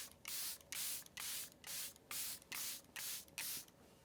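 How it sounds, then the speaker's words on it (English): Urban Decay All Nighter setting spray misted onto a face in eight quick, close pump bursts with a steady rhythm, no talking. "you take your long wear setting spray"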